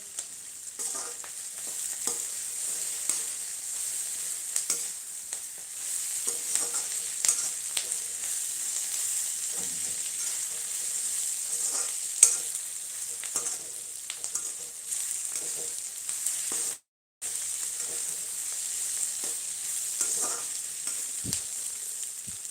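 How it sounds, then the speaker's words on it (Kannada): Onions fry in a pan for lemon rice, a soft continuous sizzle with frequent light scrapes and taps of a spoon stirring, moderately close, with a brief dropout near the end. "ಈರುಳ್ಳಿ ಇನ್ನೂ ಸ್ವಲ್ಪ ಬೇಯಬೇಕು"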